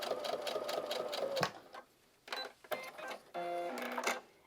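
A sewing machine stitches at a 3.5 stitch length in rapid, steady mechanical bursts, stopping and restarting a few times, close and clear with no talking.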